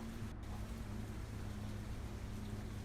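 Steady rain falling in Farming Simulator 25, a continuous even hiss of drops on a farm field with a low hum beneath, with no talking.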